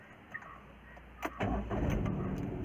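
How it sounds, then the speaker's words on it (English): A Maruti Suzuki Celerio car engine cranks briefly and catches, then settles into a steady, fairly loud idle rumble close by, with no talking. "So let me start the vehicle right now."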